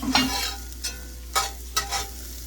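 A medium yellow sweet onion cooks in melted butter over a fire turned fairly high, giving a steady close sizzle marked by a few short scraping stirs.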